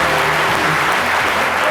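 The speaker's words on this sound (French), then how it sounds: "Applaudissez." A short burst of audience applause, loud and continuous, with a low murmur of the room underneath.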